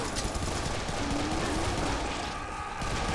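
Dense, continuous Serious Sam 3 BFE gunfire, a steady wall of rapid shots and crackle at moderate level, unbroken for the whole few seconds with no clear voices.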